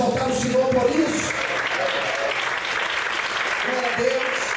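Steady crowd applause at a church service fills the whole stretch, with voices calling out over the clapping.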